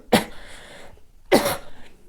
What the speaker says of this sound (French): j'ai besoin de tousser, pardon.